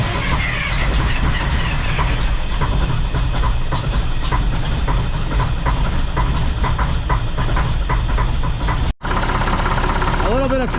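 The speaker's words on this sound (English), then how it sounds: "Get the truck started up." A truck engine runs loud and close with a steady rushing hiss from a leaking exhaust, and a brief dropout near the end before it carries on.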